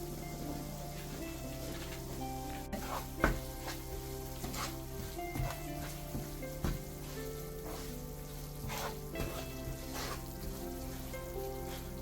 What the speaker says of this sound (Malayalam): ഇതെല്ലാം കൂടി നമുക്ക് നന്നായിട്ടൊന്ന് മൂപ്പിച്ചെടുക്കാം.